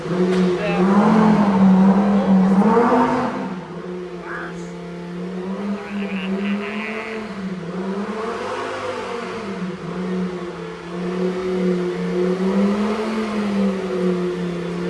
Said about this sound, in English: he's now warming it up and revving to set up the engine oil level